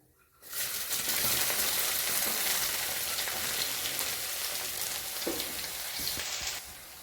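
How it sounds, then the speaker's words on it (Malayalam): Mustard seeds and sliced garlic hit hot oil and burst into a loud, steady sizzle close by, with small pops and crackles through it before the hiss eases slightly near the end. "കടുക് പൊട്ടി വരുമ്പോൾ വെളുത്തുള്ളി അരിഞ്ഞത് ഇടാം."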